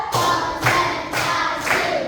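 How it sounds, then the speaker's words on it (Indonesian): Fourth-grade elementary classroom clapping together in a counting routine: four loud, evenly spaced group hand claps, each a sharp burst of many hands at once. "Yuk kita sama-sama tepuk satu, tepuk dua, tepuk tiga, tepuk empat,"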